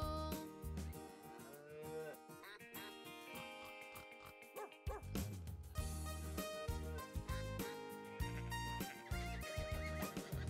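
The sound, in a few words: horse neighing in Old MacDonald song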